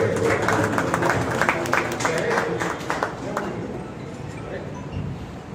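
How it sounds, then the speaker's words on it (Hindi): An audience claps at a Holi and Rang Panchami ceremony with a magazine launch and honours, a dense burst of applause that fades over several seconds, with voices mixed in. "कृपया तालियां"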